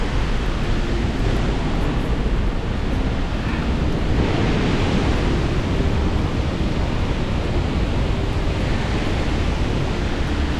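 A loud, steady roar of rushing water, broadband and unbroken, from an Icelandic waterfall heard up close at its base, amplified by surrounding rock walls, with no voices.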